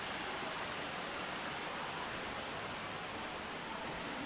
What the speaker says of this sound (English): You can see here we got some water, mini waterfalls,